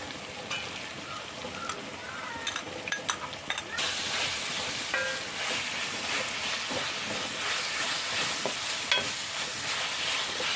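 Ginger garlic paste dropped into a hot pan of oil, a steady loud sizzle that swells after a few clicks and stirring scrapes, continuing evenly without talk.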